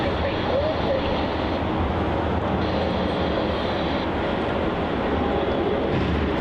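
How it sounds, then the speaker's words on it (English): A Jetstar Airbus A320 jet departs on runway 34 at Melbourne Airport, giving a steady, broad engine roar that holds at constant loudness throughout, heard from a distance with no speech over it. "we have the Jetstar A320 departure on runway 34"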